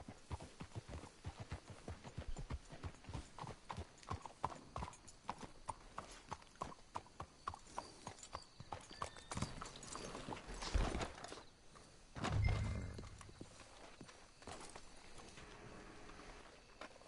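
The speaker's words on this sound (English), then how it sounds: "Let's hitch the horses up ahead." Horses walk with steady, rhythmic hoof clip-clops in the video game Red Dead Redemption 2, the plodding continuing throughout amid game ambience, with a brief louder whoosh near the end.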